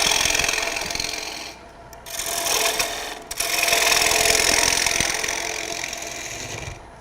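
A wood lathe turning tool scrapes through the nub of a wooden egg. It makes a loud, continuous hissing rasp with two brief pauses, close and alone.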